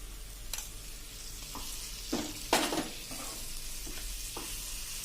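Steady sizzling of onion paste frying with a few stirring scrapes and a brief louder hiss burst midway as water is added, no voices.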